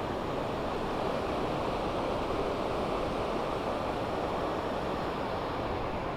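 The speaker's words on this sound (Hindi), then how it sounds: "पानी की आवाज़" Clear mountain river water rushes steadily in Uttarakhand, a dense, constant, fairly loud roar with no break and no voices.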